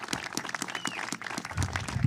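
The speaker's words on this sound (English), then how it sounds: "let's give them a huge round of applause" A crowd applauds for a labor union local at a train service reopening, a brief burst of dense, uneven clapping at moderate distance.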